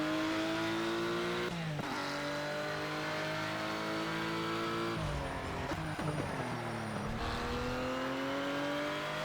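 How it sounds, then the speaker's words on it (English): A high-revving Ruf RT 12 R engine in Project CARS on the Nürburgring climbs through gears with sharp shifts, steady and loud throughout, with a brief tire squeal. "I love how this car sounds too."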